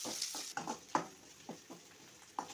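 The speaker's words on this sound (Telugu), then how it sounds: "తర్వాత 2 కరివేపాకు రెమ్మలు వేసుకొని బాగా ఫ్రై చేసుకోవాలి." Onions and curry leaves fry in a pan for a chukka kura prawn curry, with soft sizzling and several brief stirring scrapes at close range.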